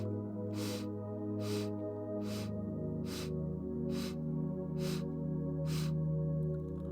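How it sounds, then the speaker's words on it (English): A person breathes in through the nose in eight short, evenly spaced sniffs, each a crisp airy burst over a sustained background drone. "Inhaling in 8 sniffs through the nose."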